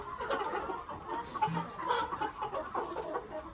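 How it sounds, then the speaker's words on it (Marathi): Several chickens cluck and murmur close by in a steady, overlapping stream, with no talking. "हो 3 कोंबड्या घेतल्यात आम्ही"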